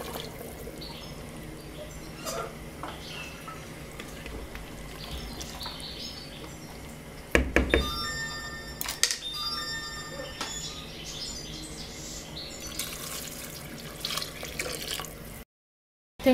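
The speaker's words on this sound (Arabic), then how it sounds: "هنا مرقو بالماء سخون ماشي بالماء بارد" Hot water poured into a cooking pot with browned meat and olives, a steady trickling pour close by with clatter partway through, birds faintly audible in the background.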